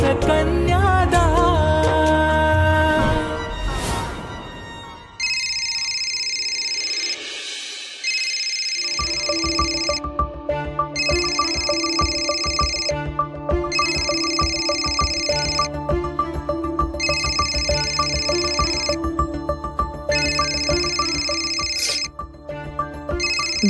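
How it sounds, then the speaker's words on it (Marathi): A phone ringtone plays in a Marathi TV serial scene: a bright, repeating electronic melody with regular bursts and short gaps. It comes in loud after a few seconds of fading music and keeps looping alone. "बेदाचा फोन आहे."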